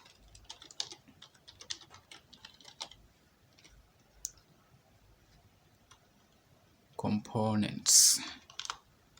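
Soft, scattered keystrokes on a computer keyboard in a quiet room, coming in short bursts, followed near the end by a louder burst of typing or clicking.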